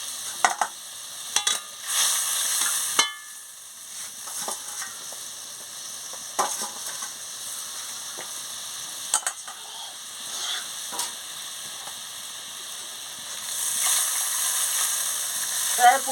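Eggplant and chopped chili frying in a pan give a soft hiss, punctuated by sharp scrapes and clinks of a spatula, with a few louder bursts of sizzle.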